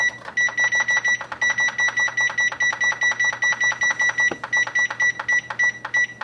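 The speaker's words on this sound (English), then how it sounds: "So we'll set our timer again." A kitchen oven timer beeps in rapid, evenly spaced clusters of shrill tones, loud and close, repeating steadily with a brief pause near the end.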